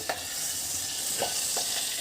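Curry leaves are dropped into hot oil and fry with a loud, dense, close-up sizzle and hiss, and a few brief crackling bursts rise out of the steady noise.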